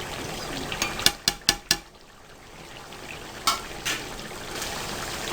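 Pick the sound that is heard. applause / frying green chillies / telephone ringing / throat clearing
frying green chillies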